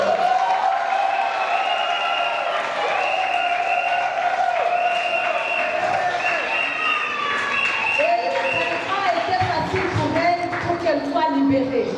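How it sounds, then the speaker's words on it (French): An audience at a peace-ambassador nomination ceremony applauds, with continuous clapping and high, sustained vocal cries and calls running over it throughout. "Est-ce que nous pouvons applaudir?"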